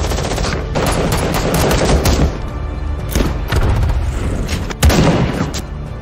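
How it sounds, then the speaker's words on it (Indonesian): Fierce rapid gunfire fills a factory shootout, dense bursts of automatic shots and heavy thumps rolling on continuously and loud throughout. "Vincent yang berada di dalam pabrik terlihat oleh anak buah Marco dan terjadilah baku tembak sengit."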